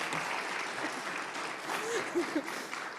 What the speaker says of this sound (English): I need you to applaud if you can.